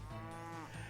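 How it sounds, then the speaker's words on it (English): A single drawn-out cow moo, close and loud, filling the short moment on its own with a rich harmonic tone. "What noise does the cow make? Moo."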